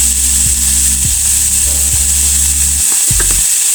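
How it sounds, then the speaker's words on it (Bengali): Vegetables including peas frying in a pan with salt and turmeric for egg noodles, a steady close sizzle under a low hum, with several soft scraping stirs through it. "তারপর আমি ভেজে নিব।"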